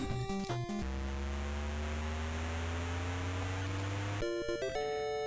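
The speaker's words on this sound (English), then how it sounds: "Here comes a bonus bell." A bonus bell in the NES game Jackie Chan's Action Kung Fu: bright chiptune tones and a long rising synthesized note, closing with a quick burst of jingle notes.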